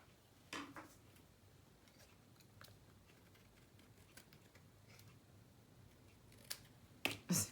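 Scissors snip through washi tape edges in a quiet room, a few sharp close cuts spaced apart with a quick cluster of snips near the end.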